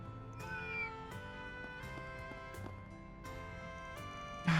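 Cat meowing in the video game Trails Through Daybreak, a few clear meows over steady game music with rhythmic beats, ending on a brief louder burst.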